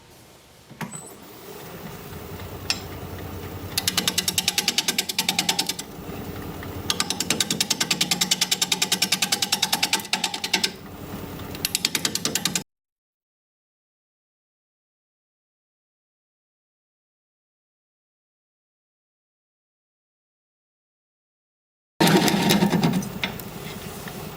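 Wood lathe at about 590 RPM taking light cuts on a turning with a tenon, giving a rough, rhythmic rattling grind in uneven bursts, then a long stretch of silence before a short loud return.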